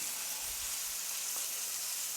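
Bacon strips laid directly into a skillet give off a soft, steady sizzle with a faint crackle, heard close but quiet, with no voices over it.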